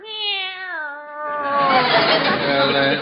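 A house cat gives a loud, close, drawn-out meow that slides down in pitch, then breaks into a harsher, rougher yowl, with no talking over it.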